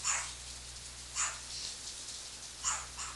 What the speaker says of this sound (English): that's just dogs barking